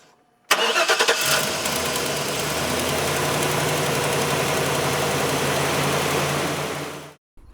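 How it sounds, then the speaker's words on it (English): A truck engine cranks briefly and catches, started with no battery from a portable emergency jump starter, then settles into a steady, loud, close idle for several seconds before cutting off. "So we're just going to start the truck without the battery straight off of the jumper right here."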